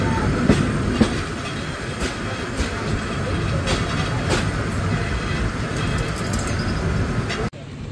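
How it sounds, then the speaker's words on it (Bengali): A Paharika Express passenger train runs along the rails with steady loud rumble and rhythmic clickety-clack from the wheels, heard from on board, ending with a brief dropout near the end. "আর ট্রেনটি প্রবেশ করলো শামসেরনগর স্টেশনে"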